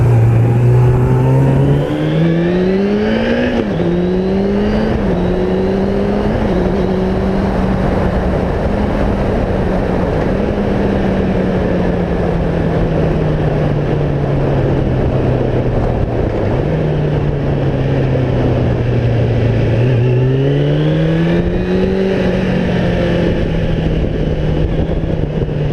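A Suzuki GSXF 600 motorcycle on a test ride, its engine droning loudly and steadily with pitch rising through the gears and dipping at shifts, under heavy wind rush.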